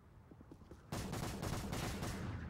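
Gunfire in the video game Modern Warfare 3, a few faint shots and then a sudden sustained burst of rapid automatic fire lasting over a second.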